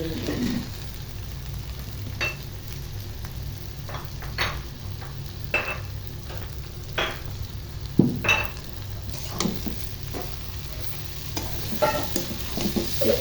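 Gram flour and vegetables being stirred in a clay pot, with repeated scraping strokes over a low, steady sizzle.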